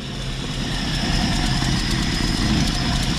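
A Jeep 232 inline-six idles steadily while warming up after a manifold install, with a leaking manifold gasket; a continuous low, even rumble runs close by without a break, and no voices are present.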